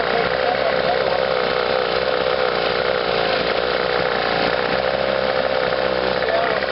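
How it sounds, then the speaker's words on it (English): An outboard motor runs steadily with a misfire in its top cylinder, a loud, continuous buzzing engine drone close by with a slightly uneven tone, alone without talk. "it's the top cylinder that seems to have a misfire in it. You can hear it coming and going."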